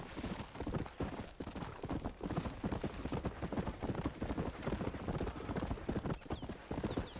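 Horse hooves clip-clop steadily as a rider travels on horseback in the Red Dead Redemption 2 video game, a continuous close rhythmic trotting with faint harness and movement noise and no talking.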